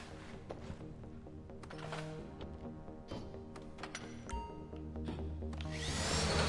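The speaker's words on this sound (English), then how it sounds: "You need to drill your way through multiple discs in order to break the vault door lock." A drill grinds through the discs of a vault door lock during a GTA Online heist, a steady, dense mechanical whir with scattered clicks and rattles that swells louder toward the end.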